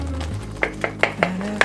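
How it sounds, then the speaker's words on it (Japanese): A spatula mashing soft, stewed-down plums into miso, giving five evenly spaced wet thumps and scrapes against the pan over a low steady hum. "ヘラで実を潰すようにかき混ぜて味噌となじませる"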